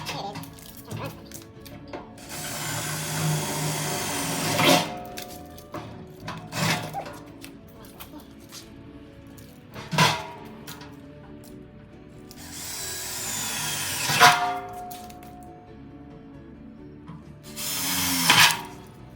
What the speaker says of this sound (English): put these legs on, and drill the holes